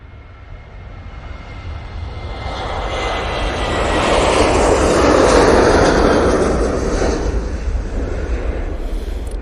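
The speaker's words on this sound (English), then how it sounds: "Two 737-800 now departing, and that's off to Preveza" A Boeing 737-800 airliner departs Manchester Airport with a loud, broad jet roar that builds to a peak mid-way and then slowly recedes, with no voices over it.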